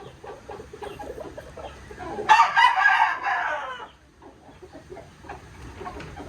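Chickens on a farm cluck softly throughout, with a rooster letting out one loud, close crow in the middle that fades back into steady low clucking.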